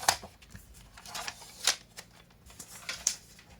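Scissors or a blade cutting card stock for a handmade wedding congratulations card, a few short crisp snips and slicing strokes spaced apart, close and fairly quiet with no voices.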